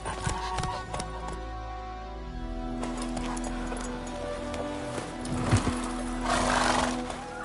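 Geralt's horse Roach in The Witcher 3 gives a neigh over a steady rhythm of hooves, the whinny rising clearly near the end, with ambient noise beneath and no talk during the sound.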